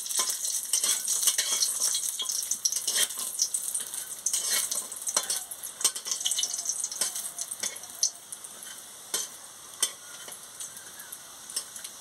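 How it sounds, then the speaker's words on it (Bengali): Lentil dumplings (bori) frying in oil in a pan, with a close, continuous sizzle and crackle, scattered sharp pops and stirring scrapes, fading to lighter, sparser bubbling toward the end; no talk. "বড়িগুলো লাল লাল হয়ে ভাজা হয়ে গেছে"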